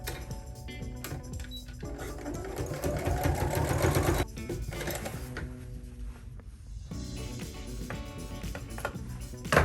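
A sewing machine runs steadily and close while stitching a shirt, pausing briefly partway through before the motor's rhythmic whir resumes with light mechanical rattling.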